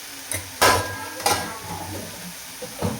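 Mung dal is stirred in hot oil in a pan while cooking methi bhaji, with sharp clanks of a spoon against the pan over a soft, low sizzle.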